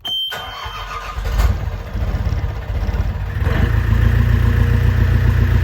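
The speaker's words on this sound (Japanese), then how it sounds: "じゃあエンジンかけて" A motor cranks, catches and sputters into life, then settles into a loud, rumbling idle that grows steadier over several seconds.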